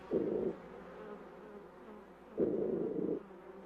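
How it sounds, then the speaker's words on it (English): Bees crowd around a scout inside the hive, making two loud, close buzzing bursts separated by a quieter low hum. "As the bees crowd around, they sense with their antennae the scout's movements."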